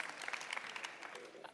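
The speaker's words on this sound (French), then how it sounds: "je pense qu'on peut aussi applaudir très fort Jeannette" Audience applause at a youth programme fireside chat, short, faint and distant, with scattered claps that rise and fall briefly.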